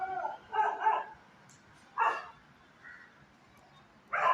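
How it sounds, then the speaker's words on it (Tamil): A dog barks from downstairs in a home, giving a few sharp, separated barks at moderate distance with quiet pauses in between. "கீழே நாய் தான்"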